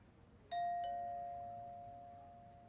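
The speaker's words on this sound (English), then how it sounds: "press the video doorbell button on the soundboard" A video doorbell chime sounds at a hackathon event once the button is pressed: a clear two-tone ding-dong, each tone ringing out and slowly fading, heard alone against a quiet background.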